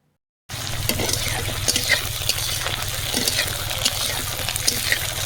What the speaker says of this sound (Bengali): তো কালো জিরে দিয়ে তারপরে আমি চেরা পটলগুলো দিয়ে দিলাম, দিয়ে ভালো করে ভাজা করে নেব।